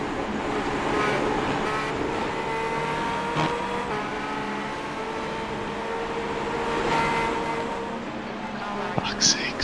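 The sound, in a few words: race car engine noise in a racing game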